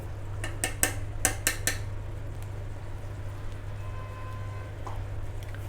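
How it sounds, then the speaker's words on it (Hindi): Gram flour and ghee batter poured into hot sugar syrup in a pan on a low gas flame and stirred, for Mysore pak; a quick run of metallic utensil clinks early, then a steady low hum. "अब इसमें हम बेसन और घी के घोल को डालेंगे। पूरे बैटर को हम इसमें डाल देंगे।"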